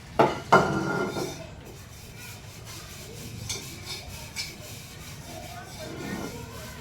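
Dishes and pots being washed in a kitchen sink, with a couple of sharp clinks of utensils at first, then soft scrubbing, rubbing and rattling throughout.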